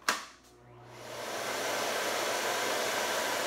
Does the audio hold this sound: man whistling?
no